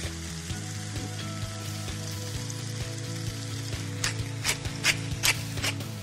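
Vegetables and noodles sizzle steadily in a hot wok, with scraping and stirring strokes that grow more pronounced toward the end; no talking.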